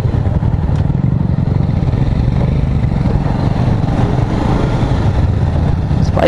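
A Royal Enfield Himalayan motorcycle rides along a road with a loud, steady engine drone and constant wind and road rumble, heard close and continuous throughout.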